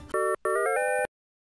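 A home telephone rings in a scene from the anime Atashin'chi: a short electronic melodic ring in two close bursts, then silence.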